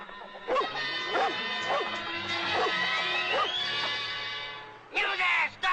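A friendly pet dog gives a series of short, evenly spaced barks and yips over a sustained musical backdrop, fairly close, with a voice also present.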